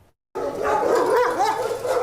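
A pit bull mix dog at a shelter, ill with a severe infection, whimpers and yips in close, loud, wavering cries after a brief silence, with a voice faintly present.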